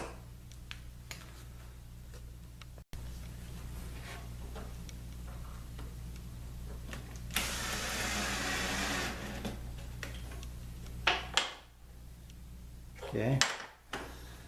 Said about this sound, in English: I'm going to use a Vicks bit on that center hole, and then I'll drive my screw in.